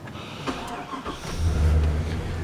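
An old high-mileage Chevrolet Silverado pickup's engine turns over and settles into a steady low running rumble, close and fairly loud, following a few faint clicks.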